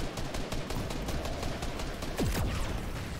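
Rapid bursts of gunfire in the video game Fortnite rattle on through the whole stretch, dense and close, with a couple of sharp whizzing sweeps near the end.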